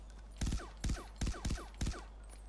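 Five sharp gunshots from Far Cry 4, fired in a steady rhythm about every third of a second, loud and close, each with a short echoing tail and no talking.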